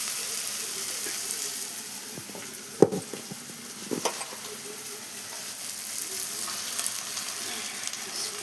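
Chili powder stirred into a sizzling mixture in a pan, a soft steady frying hiss with a few scraping stirs of a spoon, close and alone without talking.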